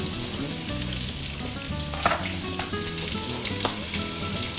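Pork sizzling and frying in its own rendered fat, a dense, continuous crackling hiss with occasional louder pops and spatula stirring, close and steady throughout with no talk.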